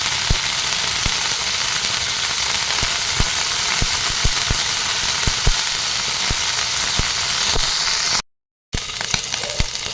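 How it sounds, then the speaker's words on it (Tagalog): Garlic sautés in corned beef oil with a constant close crackling sizzle and scattered sharp pops, dropping briefly to silence near the end before the sizzling resumes. "igisa na natin ang ating bawang"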